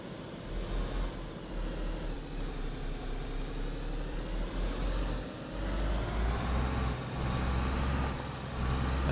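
A car engine in the DayZ Livonia video game, running steadily at a low, even rumble that swells slightly toward the end, with no talk.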